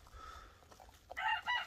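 A four-month-old Light Brahma rooster among other chickens gives a faint call, a couple of short harmonic bursts near the end of an otherwise quiet farmyard moment.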